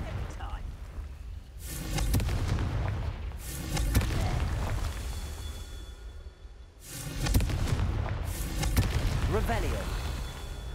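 Confringo fire spell explosions in Hogwarts Legacy, heavy booming blasts with whooshing bursts arriving in two clusters of repeated impacts, loud and close, with someone talking over the combat.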